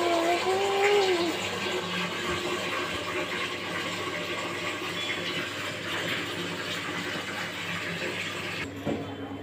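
Water runs steadily while cut potatoes are washed for boiling. The flow is a continuous mid-level wash of sound that stops abruptly near the end.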